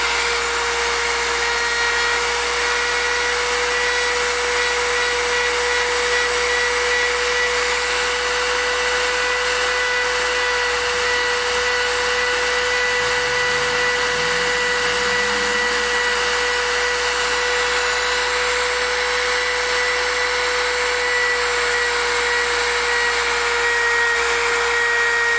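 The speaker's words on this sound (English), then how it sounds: "It's going to be a little loud, so we're going to rub a little of the compound on here." A single-speed power buffer runs steadily and loud, polishing a vape with compound, its constant motor whine holding for the whole stretch with a brief lower rumble partway through.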